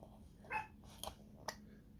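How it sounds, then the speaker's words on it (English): A small pet dog named KK barks indoors, a few quiet, short yips and barks spaced apart, faint and somewhat distant. "Now, that's my little dog, KK."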